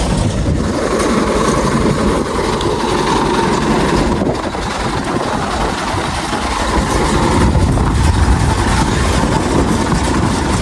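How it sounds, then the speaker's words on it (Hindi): A tractor engine runs steadily and loudly while driving a mustard oil expeller pressing mustard seed, giving a constant dense mechanical drone with rumbling low end and no pauses. "अब ट्रैक्टर को चला रहा है"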